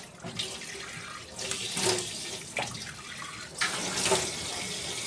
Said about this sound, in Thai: ก่อนอื่นขอล้างหน้าก่อนแล้วกันนะครับ